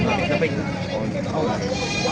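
Goats bleat amid a noisy crowd at a goat market in Padre Garcia, Batangas, with people talking loudly over the animal calls close by.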